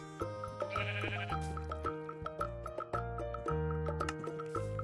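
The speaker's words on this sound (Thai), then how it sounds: "ตรงนู้นก็มีแกะ" Sheep in the Minecraft PE video game bleat several times at irregular intervals over steady background game music, with no talking.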